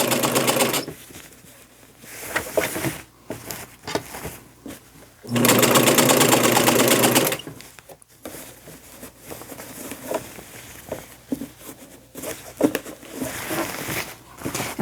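A sewing machine stitches a braided boho beach dress in bursts, a rapid mechanical whirr starting and stopping several times, with one long steady run in the middle, close and loud.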